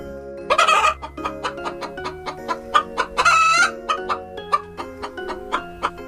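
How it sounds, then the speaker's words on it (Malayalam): Several hens cluck in a busy, overlapping series of short calls, with a couple of louder, drawn-out squawking bursts standing out, close and clear without any talking. "പിടക്കോഴി എങ്ങനെയാണ് ശബ്ദമുണ്ടാക്കുന്നത്?"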